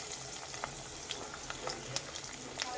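Chopped garlic and green chillies fry in a pan of hot oil with a soft, steady sizzle and occasional crackles and pops.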